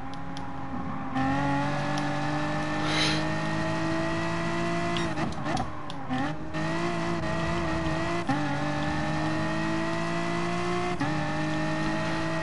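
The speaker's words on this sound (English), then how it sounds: "This BMW is a little squirrely going through some of these corners here." A BMW race car in Gran Turismo Sport hums at steady high revs through corners, its pitch dipping and climbing with gear changes and brief tire scrubs, loud and close with no talking.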